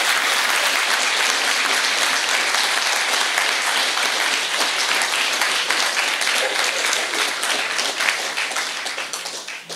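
A large audience at a conference session on self-determination applauds steadily and loudly for nearly ten seconds, then the clapping thins and fades toward the end, with no talk over it.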